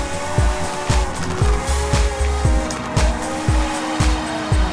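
Tires squealing in a racing video game as a hard-to-drift car slides sideways, a loud continuous screech riding over a revving engine that rises and drops in repeated gear-shift cycles.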